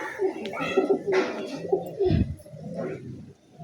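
A pigeon with watery eyes gives a brief low coo while held in the hands for eye-drop treatment, with a person talking over it.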